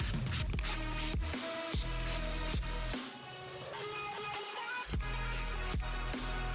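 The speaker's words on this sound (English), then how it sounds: "you're gonna basically liberally just spray it on like so." A ceramic coating product is sprayed liberally onto a car hood in repeated short bursts, each hiss close and steady, with brief pauses between strokes.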